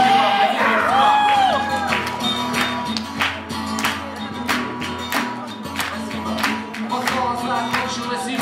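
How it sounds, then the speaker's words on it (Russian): An audience claps and cheers steadily throughout, with whoops and shouts rising over a continuous wash of applause, loud and close. "Аплодисменты, мы это обожаем."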